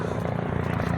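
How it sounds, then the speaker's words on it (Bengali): A helicopter nears in a brief burst of rapid, rhythmic rotor thumping, moderately loud and steady. "গাইস হেলিকপ্টার আসছে, দেখতে পাচ্ছ।"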